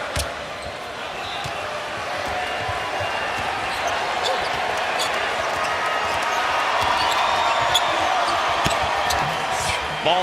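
Basketball dribbled on the court at Oracle Arena in the final seconds of an NBA game, faint repeated bounces buried under a loud, steady roaring crowd and an announcer's voice.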